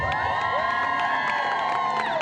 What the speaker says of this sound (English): Big crowd out here.